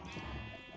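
Sheep bleating in Minecraft with the DartCraft mod, a single short, close bleat heard clearly over a steady background hum.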